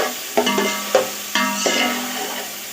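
Vegetables with garlic-ginger paste sizzle in a hot pan as they are stirred, with a few sharp clinks of a utensil against the metal.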